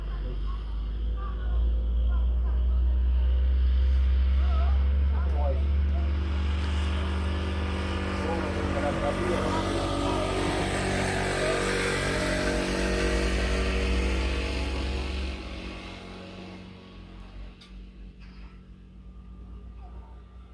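A truck engine rumbles loudly and steadily as it passes near a hillside sleeping spot, its low drone and hum swelling over the first fifteen seconds before dropping to a quieter idle-like tone.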